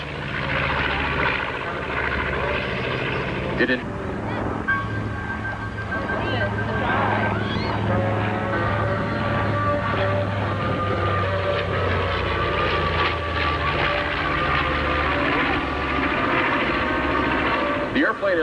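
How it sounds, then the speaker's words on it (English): A B-25 Mitchell bomber, a Second World War twin-engine aircraft, flies past at an airshow in Chatham, Ontario, its steady droning engine roar running throughout beneath a public-address announcer talking. "the B-25 Mitchell bomber is a bomber remembered as the airplane that initiated the offensive in the Second World War for the United States forces"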